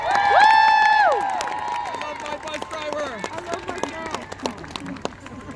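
A crowd cheers and claps at the finals award ceremony of the Branson Marching Invitational 2019, with whistles and shouts over steady applause that gradually eases, voices calling out throughout.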